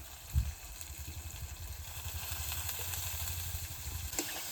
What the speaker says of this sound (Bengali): মশলা কষাচ্ছি তো কাঠের জাল ওই জন্য আস্তে আস্তে একটু জাল দিচ্ছি